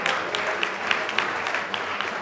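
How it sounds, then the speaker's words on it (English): Crowd at a national youth orientation day event in Lagos claps steadily for the president's arrival, a dense, fairly loud wash with occasional sharper individual claps. "Clap for Mr. President now."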